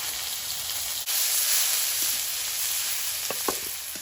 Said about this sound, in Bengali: কড়াইতে তেল দিয়ে দেবো তেলের মধ্যে দিয়ে দেবো সাদা জিরে আদা রসুন কোড়া পেঁয়াজ কাঁচা লঙ্কা